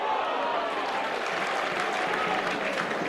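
A stadium crowd roars and applauds steadily throughout a 2005 rugby league match between Warrington and Wakefield, a dense, sustained wash of cheering with no pauses.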